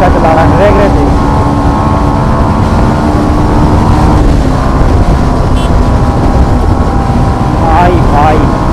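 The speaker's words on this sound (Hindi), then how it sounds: "मेरी और बदमाश राइडर की रेस लग चुकी है गाइस। भाई क्या ही लड़का चला रहा है ड्रैग रेस" Hero Xtreme 160R and Yamaha MT-15 motorcycles drag racing side by side, their engines roaring loudly and steadily throughout with a rising whine near the end, while voices call out faintly beneath the noise.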